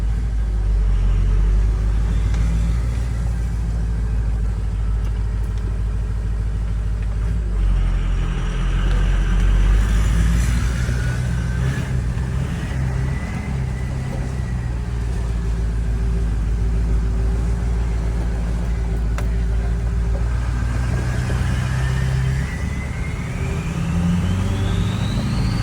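Ford 6.0 Powerstroke factory race truck fitted with a new exhaust, running steadily with a deep, continuous diesel rumble close to the microphone and some shifting whine as revs rise slightly, no talking.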